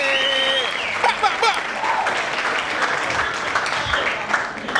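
A live audience at a music and comedy show claps and cheers, a dense, fairly loud wash of applause with scattered whoops and voices mixed in, carrying on steadily.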